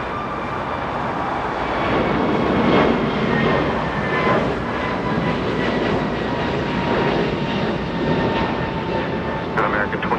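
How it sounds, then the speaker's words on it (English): An Emirates airliner taxis at LAX, a continuous jet engine whine and rumble at moderate distance with faint tonal lines, while radio chatter and voices run over it. "And we will see Emirates taxi east on Echo."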